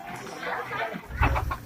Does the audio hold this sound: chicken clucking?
yes